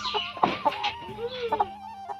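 A hen that has just laid eggs clucks in short, uneven bursts close by, mixing quick clucks with a drawn-out cackling note.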